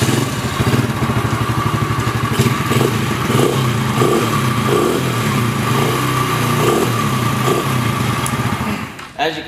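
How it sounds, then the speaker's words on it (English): Small 125cc youth ATV engine starting and idling, a steady buzzing putter with fast even pulses that holds throughout, then cuts off abruptly near the end. "and just simply push the start button."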